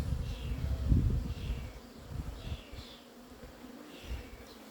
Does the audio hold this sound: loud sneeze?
no